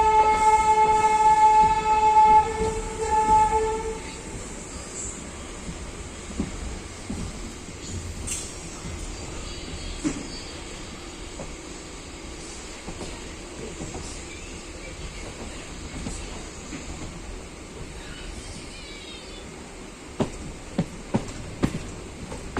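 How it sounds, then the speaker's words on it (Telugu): A train horn blares for a few seconds, then train wheels rumble steadily along the rails with occasional sharp clacks over the joints. "ట్రాక్ సౌండ్లు మటుకు భలే ఉంటాయి. నాకు చాలా ఇష్టం."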